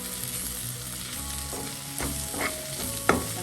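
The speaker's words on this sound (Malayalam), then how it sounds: "ഈ സമയം നമുക്ക് മസാലപ്പൊടികൾ ചേർക്കാം. മസാലപ്പൊടികൾ ചേർക്കാം. അത് ഓയിലിലോട്ടൊന്ന് മിക്സ് ചെയ്യാം." Masala spice powders being stirred into hot oil in a pan for a kingfish masala roast, with a steady sizzle and several distinct scraping strokes of the spoon, close and clear with no talking.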